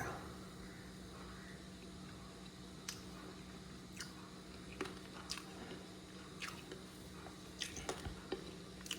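Quiet close-up chewing of fried fish with soft squishy bites and occasional sharp crunchy clicks, irregular and faint over a low background hum.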